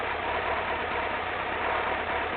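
A motorcycle engine idles steadily while a rider practices clutch control, a constant low rumbling drone held close and even throughout, with no voices.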